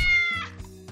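A cat gives one short, clear meow, close and fairly loud, lasting under a second.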